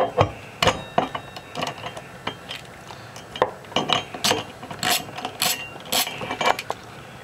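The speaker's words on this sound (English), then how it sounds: "take a 14 or 15 millimeter socket, put it on the nut, and remove it from your bike" A socket wrench on a 14 or 15 millimeter nut ratchets the nut off a bicycle's square-taper crank. Sharp metallic clicks and clinks come in irregular bursts, close and distinct, over a quiet background.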